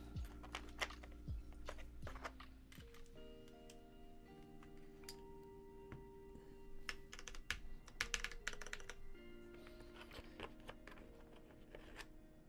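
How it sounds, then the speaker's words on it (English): Steady typing on a Hex 4B Dreamcore Edition keyboard with Boba U4T tactile switches: a rapid, irregular patter of close, soft-thocky keystrokes with occasional heavier clacks and a faint background hum. "This keyboard is the Hex 4B Dreamcore Edition with Boba U4T switches."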